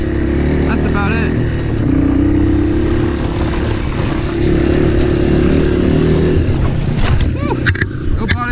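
A Yamaha XT225 motorcycle with modified suspension rides along, its engine holding a steady loud drone throughout, with a voice sounding over it near the end.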